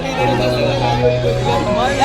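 A busy crowd at a village jatra fair in Wahal, with dense overlapping chatter and voices from many people filling the air close by, some voices standing out over the steady hubbub.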